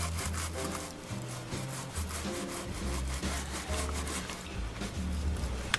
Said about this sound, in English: And a scrub brush to remove dust from the bridge parts.